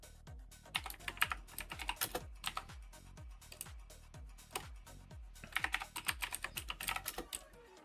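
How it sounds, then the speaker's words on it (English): Rapid typing on a computer keyboard, with dense, irregular bursts of close, crisp key clicks continuing throughout and no talking. "I'll type it in chat."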